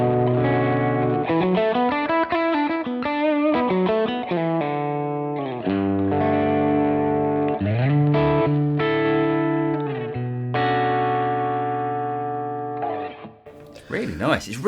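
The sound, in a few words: Chandler GAV 19T guitar amp, clean on the verge of breakup tone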